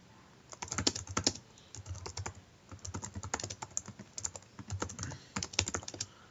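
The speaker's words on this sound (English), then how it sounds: "I'm just typing this out" Rapid computer keyboard typing in bursts of clustered keystrokes, fairly close and steady throughout, with no voices.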